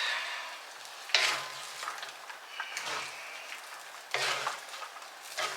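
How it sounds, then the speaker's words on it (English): A stir fry sizzles steadily in a hot pan, with bursts of louder crackling as it is stirred and tossed. "It seems like I hear something sizzling."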